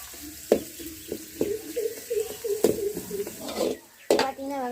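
Chopped onions and curry leaf powder sautéing in hot oil in a village kitchen, a steady close sizzle broken by several sharp utensil knocks and scrapes against the pan, with a voice speaking briefly over it.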